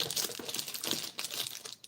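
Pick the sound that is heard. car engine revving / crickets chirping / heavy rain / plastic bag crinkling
plastic bag crinkling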